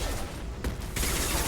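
Rifle fire in a sci-fi shooter game, with a dense burst of rapid gunshots breaking in midway through, loud over a noisy battle bed.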